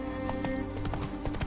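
Roach the horse gallops in The Witcher 3, hooves clip-clopping in a steady rapid rhythm, fairly close, over a sustained musical and ambient game background.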